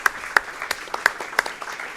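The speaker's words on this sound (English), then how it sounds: "let's give them a big round of applause" A small group applauding at a live sports show broadcast from a pizza restaurant: sparse, individually distinct hand claps at an uneven rhythm, fairly close.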